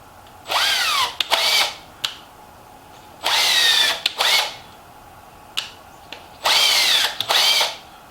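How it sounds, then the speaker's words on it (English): A power drill whirs in three separate bursts, each made of two short runs with brief pauses between, close and loud with quiet gaps, drilling out an electric skateboard motor mount. "So go around and drill all them out."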